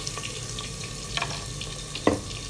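Onions and tomatoes dropped into hot oil for a potato and egg curry, a low sizzle with a few soft clatters and a sharper knock near the end, close by and with no talking.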